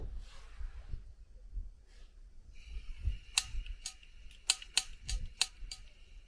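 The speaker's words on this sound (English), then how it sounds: "that clicker has gone bad. Sometimes it clicks and sometimes it don't." A faulty camp stove igniter on a backpacking trip clicks sharply about eight times in an irregular series, close and crisp, after a stretch of quiet rumbling background.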